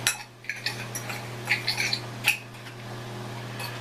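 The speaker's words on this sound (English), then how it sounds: "Now if your brown sugar is clumpy, you're going to have to mash it up just like I am." A utensil mashes and mixes clumpy brown sugar in a bowl for a coffee steak rub, making light clinks and scrapes against the bowl in an irregular series, fairly quiet over a steady low background hum.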